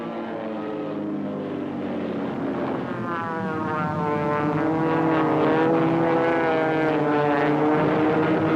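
A WWII propeller airplane drones overhead, its engine tone swelling steadily louder as it approaches, with no voices present.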